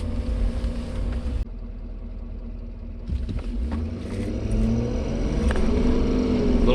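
A tuned Powerstroke diesel truck accelerating hard from a standstill toward 60 mph with wheel spin, a loud sustained engine roar that builds steadily, heard from inside the cab with no talking.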